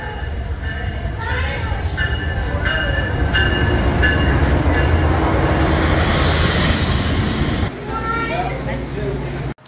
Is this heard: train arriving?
yes